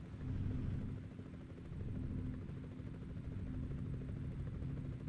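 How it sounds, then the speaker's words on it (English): A medical flight helicopter passing overhead, a faint steady rotor drone and low rumble that stays continuous and distant for several seconds without voices. "I hear a helicopter."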